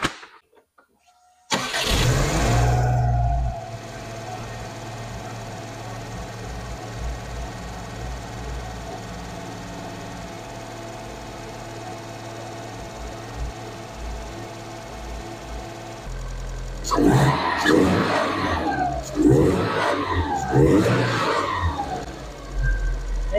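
Subaru engine fitted with a Takeda AFE direct cone filter intake cranks and catches after a brief silence, settles into a steady idle for over ten seconds, then rises in several loud revs with intake noise, heard close up.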